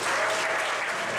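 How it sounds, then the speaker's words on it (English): Comedy club audience applauds a comedian walking up to the microphone, a loud, continuous wash of many hands clapping that fills the whole short moment without talk. "Thanks for applauding until I get to the microphone"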